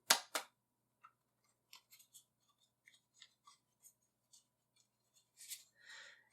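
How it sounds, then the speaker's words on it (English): A deck of playing cards is riffle shuffled with a bridge, giving two sharp bursts of rapid card flutter up front, a string of small scattered ticks and taps, then a final longer burst of cards cascading together; close and quiet, without speech. "Now we're going to do another ruffle shuffle. But this time with a bridge."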